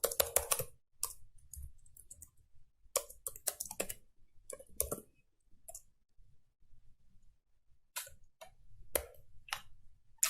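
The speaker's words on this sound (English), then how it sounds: "simply type in another option" Typing on a computer keyboard, bursts of rapid clicking keystrokes separated by short pauses, close and fairly quiet, with no talking.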